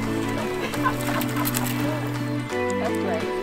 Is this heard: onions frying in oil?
no